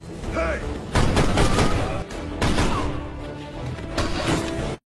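Gunfire from soldiers in an action film scene, repeated heavy bursts of shots and impacts with crashes, loud and close, mixed with a tense soundtrack before cutting off abruptly.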